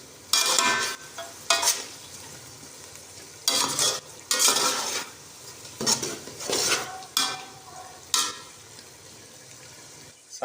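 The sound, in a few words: stirring green chillies into potato pea pulao in pot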